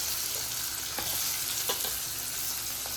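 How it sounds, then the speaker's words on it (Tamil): Chopped onion frying with fennel seeds in hot oil, a steady loud sizzle with crackling pops and a few stirring scrapes throughout, no talk. "இப்போ ஒரு வெங்காயம் பொடியை அரிஞ்சு வச்சுருக்கோம், அதை போட்டுக்கலாம்."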